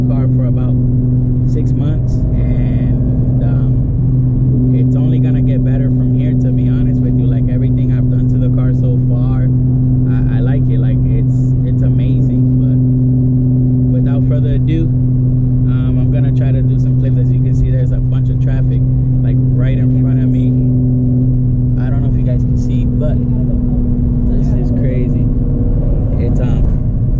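Nissan 370Z fitted with Motordyne art pipes and a Tomei exhaust cruising in sixth gear, giving a steady low droning exhaust hum that holds throughout, with a person talking over it.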